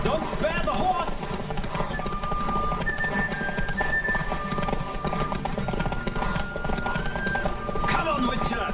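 A horse gallops in the Witcher 3 video game, a steady rapid drumming of hooves under game music and ambience that carries on for the whole stretch, with a brief whinny near the start.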